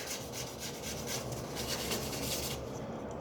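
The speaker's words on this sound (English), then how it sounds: "And then I'm going to hold this up to the camera and brush." A toothbrush loaded with toothpaste scrubs back and forth in quick, even strokes close by, a steady rhythmic rubbing rasp that stops near the end, with no voices.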